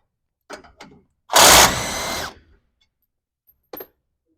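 A pneumatic impact gun rattles off front bumper bolts on a 2024 facelift Land Cruiser 70 Series in one loud, close burst of about a second, with a few short metallic knocks before and after.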